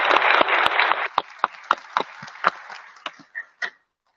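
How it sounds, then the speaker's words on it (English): Applause at a WRPS police deputy chief swearing-in ceremony for the constable who sang the anthem: a dense burst of clapping for about a second, thinning into scattered individual claps that fade out. "I want to give a round of applause also to Constable Alejandro Vasquez for a wonderful anthem"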